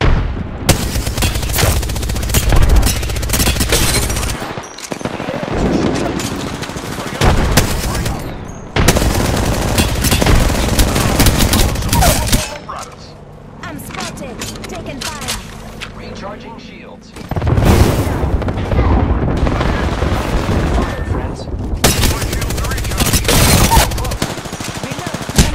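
Rapid bursts of automatic weapon fire in an Apex Legends match, including a Devotion, come in loud sustained volleys with short pauses, mixed with explosions and game sound effects.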